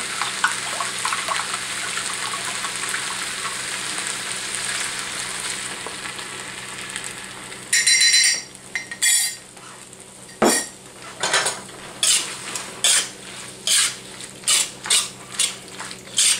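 Sauce thickened with potato flour is stirred into yuxiang-style tofu in a hot pan. A steady frying sizzle runs first, then a spoon or spatula scrapes and clanks against the pan in a quick, rhythmic series, with no talking.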